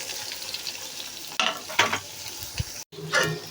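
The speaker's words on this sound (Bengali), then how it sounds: "পেঁয়াজটা ভাজে নিই।" Onions frying and being stirred in a pan for biryani on a broken stove, a steady sizzle broken by scraping stir bursts and a brief cutout near the end, with no talking.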